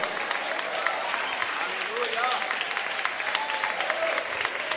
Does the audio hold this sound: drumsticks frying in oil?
no